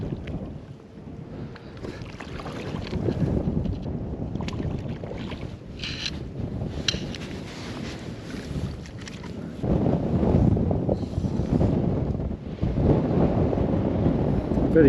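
Strong winter wind blowing at a fly-fishing spot on the water, a loud, steady roar of gusts buffeting the microphone that surges stronger toward the end.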